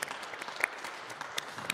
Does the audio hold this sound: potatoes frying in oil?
no